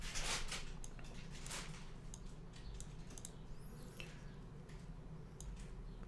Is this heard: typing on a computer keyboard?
yes